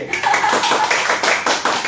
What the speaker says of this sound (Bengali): মাত্র আরেকবার হাততালি হবে।